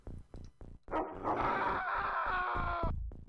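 A dog in the X-Com Files game gives a long, drawn-out howl or bark that stands out loud against rhythmic combat sounds before and after it.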